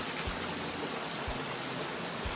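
A cool mountain valley stream rushes steadily in Hongcheon, a constant broadband wash of flowing water with a few soft low thumps, heard alone with no voices.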